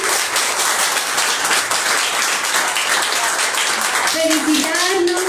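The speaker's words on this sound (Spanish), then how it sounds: "Quiero que nos demos un aplauso por este momento de conversación." Steady applause from an audience at a community gathering on memory and peace in Medellín, dense clapping throughout, with a voice rising near the end.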